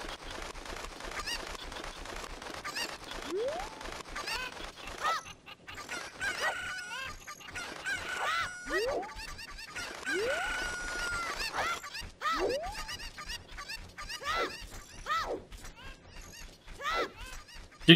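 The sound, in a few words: chicken clucking in the video game Ocarina of Time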